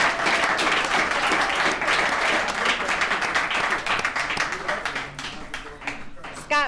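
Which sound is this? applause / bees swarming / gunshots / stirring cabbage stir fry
applause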